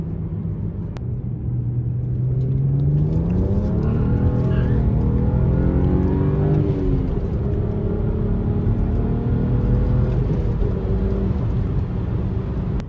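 A BMW with an N54 engine is driven hard on the road to warm the engine and oil, giving a loud, continuous engine drone that rises steadily in pitch under acceleration, eases, then climbs again. No one speaks.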